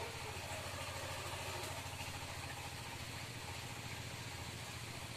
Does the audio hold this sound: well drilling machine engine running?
yes